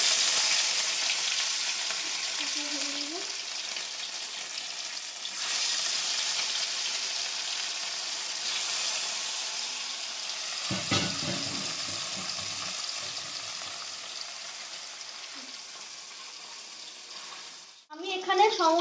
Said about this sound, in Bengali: প্রথমে আমি সব মাছগুলো ভেজে নেবো একদিকের কড়াইতে